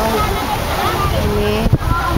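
Sea waves washing in at a beach, a steady broad rushing surge with wind buffeting the microphone, loud and close throughout.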